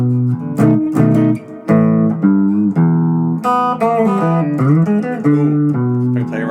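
Electric guitar playing the opening riff of a blues shuffle, a steady run of bent notes and chordal stabs, loud and close, heard alone.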